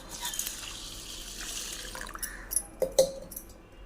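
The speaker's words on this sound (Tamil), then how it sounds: "இப்போ இதை வந்து நல்ல தண்ணி ஊற்றி ரெண்டு தடவை நல்லா கழுவணும்" Water is poured over an ingredient for a no-cook sweet as it is washed in a bowl, giving a steady splashing trickle with a few louder sloshes and drips near the end.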